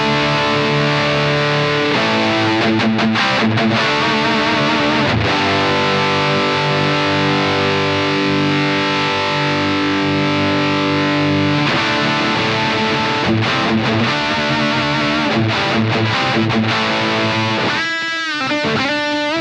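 A heavily overdriven electric guitar with a gain boost, through a tube-tone pedal and analog cab sim, plays sustained distorted chords and riffs, loud and continuous, with brief choppy muted strums near the end.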